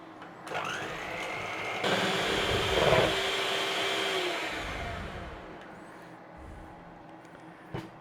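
An electric hand mixer whirs through runny lemon bar batter of egg and lemon with baking powder, a steady loud motor hum that starts, rises briefly around the middle and trails off near the end, with no talking.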